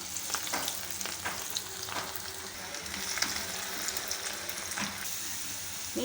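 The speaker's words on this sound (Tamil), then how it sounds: "இப்போ நம்ம ஒரு ஒரு காலிஃப்ளவராக போட்டு பொரிச்செடுக்க வேண்டிதான்" Cauliflower pieces fry in hot oil with a steady, dense sizzling hiss and occasional pops and utensil clinks, close up and with no speech.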